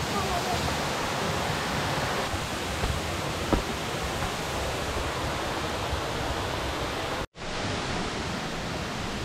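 Third tier of a waterfall on a trip to Kanchanaburi, Thailand: a steady, dense roar of falling water fills the whole stretch, with one brief cut to silence near the end.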